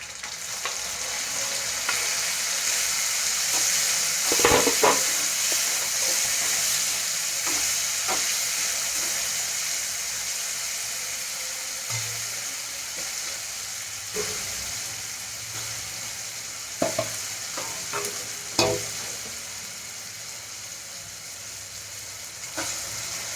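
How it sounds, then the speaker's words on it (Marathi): Green tomatoes sizzle steadily in a hot pan with onions and spring onions, a constant frying hiss broken by a few sharp scrapes and knocks of a spoon stirring, close and loud. "आता टोमॅटो टाकून घेते."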